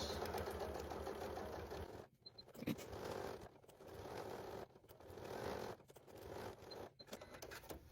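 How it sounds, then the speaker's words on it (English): A sewing machine stitches a seam, whirring in several close bursts broken by short pauses as it reverses to back stitch, quiet and steady without any talk. "I'm just closing in the seam right here, and we're gonna start right about here and sew. Back stitch."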